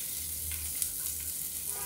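Cumin seeds crackle in hot oil alongside chopped onion, a soft, steady sizzle with faint pops running through the whole short stretch.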